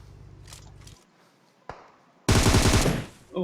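Gunfire in the PUBG video game: a rapid automatic burst at first, then a lone sharp shot and a loud dense volley near the end.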